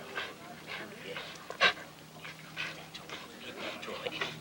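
A female pit bull pants and snuffles while playing with a toy, breathy bursts close by under steady encouraging talk from a handler.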